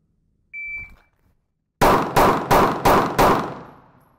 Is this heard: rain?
no